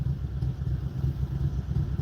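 A motorcycle with a loud bass stereo passes nearby, a deep, pulsing low-end thump and engine rumble rolling steadily throughout.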